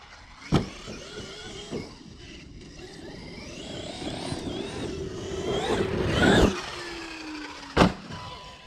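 The stock motor of an X-BUG model whines as the throttle is eased up and released, the pitch rising and falling smoothly across several passes, with sharp clicks and a loud peak near the end.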